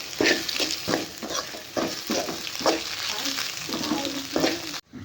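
Egg stir-frying with bitter gourd in a hot pan makes a loud, continuous sizzle, with repeated scraping strokes of a spatula roughly every half second, heard up close.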